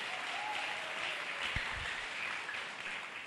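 Church congregation at a Saturday inauguration service applauding together, a steady broad wash of clapping that continues throughout, with a couple of brief low thumps in the middle.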